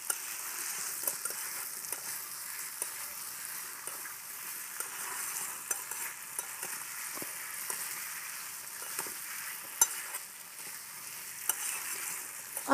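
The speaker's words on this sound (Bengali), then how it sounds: "আমি মশলার সঙ্গে লাউ আর আলুটাকেও ভালো করে কষে নেব।" Bottle gourd and potato sautéed with spices in a pan, a soft continuous sizzle broken by frequent light clicks and scrapes of a spatula stirring, close and steady for several seconds without speech.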